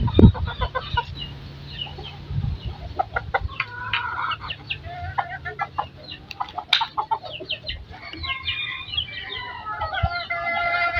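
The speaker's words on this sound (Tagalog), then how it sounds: "inaagawan ng mga maliliit na manok" Hens and small chicks gather at feeding time outdoors, clucking and peeping in a busy chorus of short, overlapping calls, with a few louder squawks, fairly near and steady over a faint breezy background.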